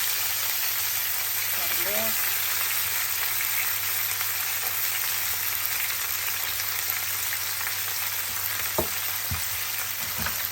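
Red onions, green chillies and curry leaves frying in a pan after mustard seeds have popped, a steady hissing sizzle throughout with an occasional clink, while someone talks over it.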